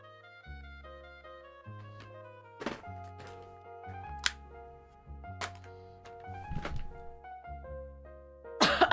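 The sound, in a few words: cough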